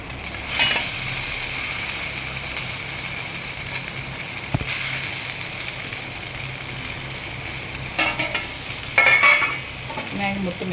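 Maggi noodles with egg are stirred in a frying pan, a loud continuous sizzle with scraping stirs throughout and a couple of sharper clatters near the end.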